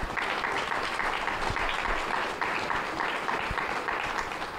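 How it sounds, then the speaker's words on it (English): Audience members at a Lambton-Kent-Middlesex provincial election debate applaud the candidates, a steady, moderately close round of clapping from a mid-sized crowd, rippling with slight rhythmic surges and holding through the whole stretch. "once again, a round of applause for your candidates for Lambton-Kent-Middlesex in the provincial election"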